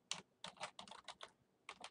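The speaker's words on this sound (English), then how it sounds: "I'm going to type in" Quick bursts of clicking keystrokes on a computer keyboard, in short runs separated by brief pauses, close and fairly quiet, no voices.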